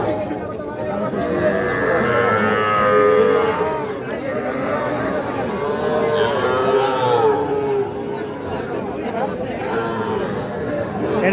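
Young bull calves mooing at a busy Amborhi cattle market, low calls rising intermittently through dense crowd chatter and bargaining voices.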